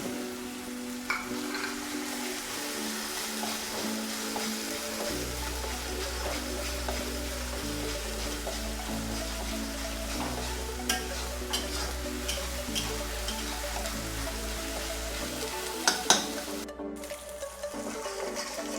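Onions with ginger, garlic and green chilli paste sizzle steadily in a pan while being stirred for a Kolkata-style rohu fish biryani, a continuous close frying hiss with scraping and clinks and no talk.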